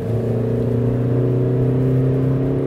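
A Chevy Spark's small engine drones steadily up close, holding a strong low hum with a faint rise in pitch as it is revved, with no talk over it.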